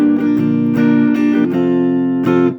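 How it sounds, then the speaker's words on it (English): Guitar strummed with a pick, a few bright, hard chord strokes struck close up and left to ring briefly, playing alone without any voices over it. "If I strum with the pick, it also sounds cool."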